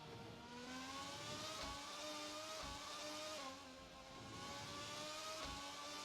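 A race car engine on an onboard lap in a racing video game, screaming steadily at high revs with repeated gear shifts and brief dips, loud and continuous with no talk.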